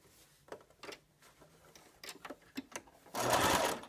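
After several soft clicks and fabric rustles, a sewing machine starts sewing down the side of a cloth face mask, a short close burst of steady stitching.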